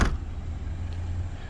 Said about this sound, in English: And there's your handle to close the hatch.